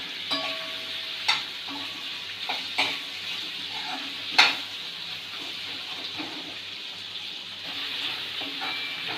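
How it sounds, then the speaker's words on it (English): Onion sautéing in a pan for butter chicken gravy: a steady broadband sizzle runs throughout, punctuated by several sharp scraping clicks of a spoon stirring against the pan, with no voices. "Saute this onion till translucent"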